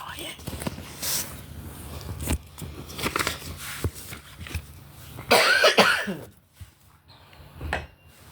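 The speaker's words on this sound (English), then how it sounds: "I hate when I just sit and cough" Several harsh coughs break out close to the microphone, one heavy burst in the middle, with quieter rustling and breathing between them.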